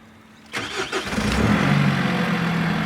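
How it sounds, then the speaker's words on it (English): A Nissan NP300 pickup's engine in anti-theft mode catches and rises into a muffled, steady rev that holds loud and close after a quiet start, with no talking. "So if I stab the throttle, it's really light on and very doughy"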